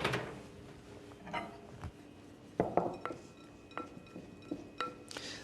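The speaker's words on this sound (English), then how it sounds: "we certainly want to stir the chocolate for a moment" A utensil clinks and scrapes against a bowl while chocolate for fondue is stirred after microwaving, a few scattered taps and scrapes, close and fairly quiet.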